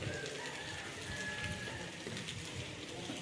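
Rain falls outdoors at a gathering of worshippers before the fast is broken, a dense steady patter across the whole stretch, with a faint bird coo and distant voices mixed underneath.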